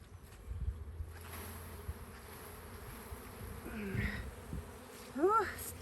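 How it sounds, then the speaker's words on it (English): Honeybees swarming around a shaken, healthy hive, a close whirring buzz that holds throughout with single bees zipping past the microphone in rising and falling sweeps near the end. "Why'd you shake the bees like that?"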